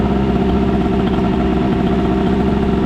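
A scooter fitted with an Airsal CPI 70 cylinder kit, boosted exhaust and Carters setup runs steadily at a low, even idle, a dense continuous engine drone with no voices over it.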